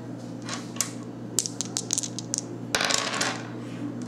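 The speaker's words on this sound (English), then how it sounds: "now I'm going to get 2 dice to roll to go up against his armor" A pair of dice rolled onto a tabletop during a board game of Earth Reborn: quick, light clattering clicks and bounces that tumble together, then settle into a brief final rattle, fairly quiet.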